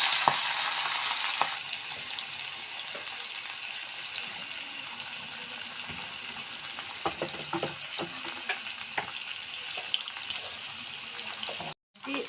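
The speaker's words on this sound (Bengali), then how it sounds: "এখন মাছগুলো ভেজে নিচ্ছি, মাছগুলো ভেজে নেব।" Small rohu fish fry in white oil in a wok, a continuous close sizzle with occasional crackles and light scraping of a utensil.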